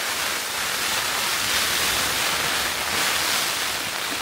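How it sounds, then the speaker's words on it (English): Heavy rain falling at night in the Lake District, a dense, steady hiss of downpour that fills the whole clip without a break, loud and close with no voices. "That's proper heavy rain, that."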